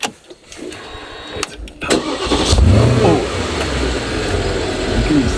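A car engine is cranked and catches after the clutch is pressed, with clicks and a short starter whirr before settling into a loud, steady idle close by.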